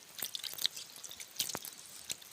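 Wet splashing and dripping water sounds in short bursts, with irregular sloshes as chicken is rinsed in a basin.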